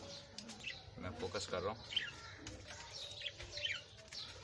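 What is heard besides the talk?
Fischer's lovebird pair chirping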